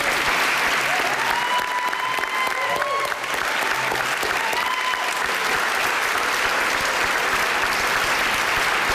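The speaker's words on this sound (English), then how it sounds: "How about one more round of applause?" An audience at an American Legion Teenager of the Year ceremony gives a sustained round of applause for the standing nominees; the dense, even clapping continues for about nine seconds, with faint voices underneath.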